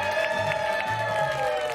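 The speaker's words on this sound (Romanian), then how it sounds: "Aplauze și gălăgie multă" Wedding guests at a Romanian wedding gift-giving celebration clap and cheer in a dense, continuous crowd roar over a steady sustained tone, loud and close throughout.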